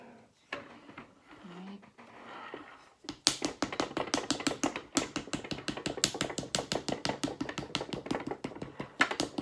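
A wooden paddle taps repeatedly against a clay pinch pot mug on a lazy Susan, a fast, steady run of close, crisp knocks that starts after a few quiet seconds with faint handling noise.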